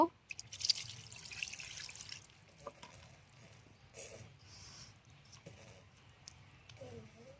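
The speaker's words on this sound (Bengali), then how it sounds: "এখন এই যে পানি দিয়ে দেব" Water is poured into a pan holding small fish for cooking, with faint splashing and dripping early on, then quiet trickles and drips, low in level with a voice faintly present.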